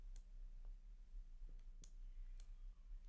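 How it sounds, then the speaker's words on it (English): A computer mouse gives a few sharp, quiet clicks spaced out over a steady low hum, with a brief soft drag between presses. "And then we're going to click and drag."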